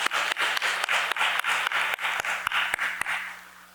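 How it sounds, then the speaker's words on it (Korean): A Korean church congregation gives a round of applause during a Sunday worship service, dense clapping with a steady rhythm and sharp louder claps standing out, fading near the end. "하나님께 영광의 박수를 올려드립니다."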